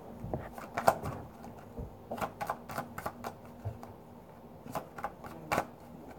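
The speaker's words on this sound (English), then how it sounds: "How in the hell am I shuffling like 4 cards?" A small handful of tarot cards being shuffled, soft papery riffles and slaps in irregular bursts, quiet and close, with no talking.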